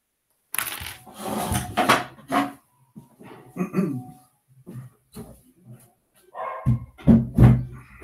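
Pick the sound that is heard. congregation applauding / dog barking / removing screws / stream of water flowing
dog barking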